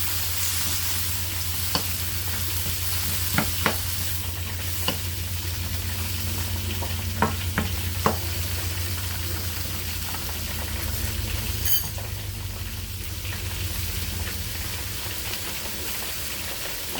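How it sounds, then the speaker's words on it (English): Shrimp, meat and sausage fried rice stirred in a pan, a steady close sizzle with a low continuous hum beneath and scattered sharp scrapes and clicks of a utensil against the pan. "I'm just going to stir it until it thaw out."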